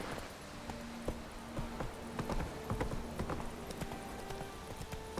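Horse hooves clip-clopping at a steady walking rhythm in The Witcher 3, moderately close over a faint ambient bed of game sound, with no talk.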